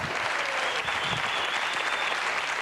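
A studio audience at a game show applauds the contestants with a dense, continuous wash of clapping that stays loud and even throughout.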